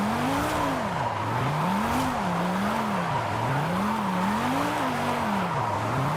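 A Mercedes-Benz drifts in the Forza Horizon 5 racing game, its engine note rising and falling in steady sweeps over a continuous hiss of tire squeal, loud and unbroken throughout.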